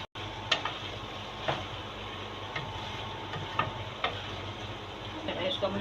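Potatoes, spinach and fenugreek leaves fry in a pan, a steady close sizzle broken by periodic utensil scrapes and taps as the mix is stirred, with no talk over it.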